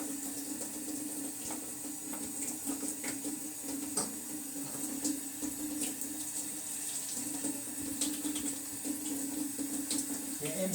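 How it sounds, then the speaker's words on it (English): A kitchen tap runs steadily at moderate volume while hands are washed under it, with small splashes and a constant hum behind the flow. "Wash your hands."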